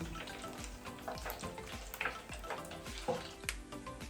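Battered pork pieces for Cantonese sweet and sour pork sizzle and crackle steadily in hot oil, close and continuous, with occasional sharper pops and no talking.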